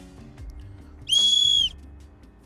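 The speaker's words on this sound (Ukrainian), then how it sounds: "Ось такий кастомний свисточок" A single shrill blast from a small keychain whistle, sharp and close, lasting about half a second before cutting off into quiet room noise.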